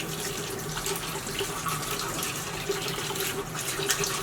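Tap water runs steadily into a sink as soaked dyed items are rinsed, a continuous even splashing hiss with no talk.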